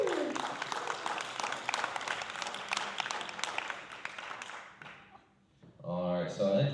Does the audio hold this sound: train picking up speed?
no